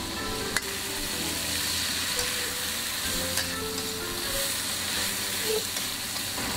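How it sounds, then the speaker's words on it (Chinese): Beef stir-fried in an iron wok with chili bean paste, spicy sauce, rice wine and soy sauce, sizzling loudly and steadily for the whole stretch, with occasional scrapes and clicks of the spatula. No one speaks. "牛肉稍微煸炒一下，再淋入生抽"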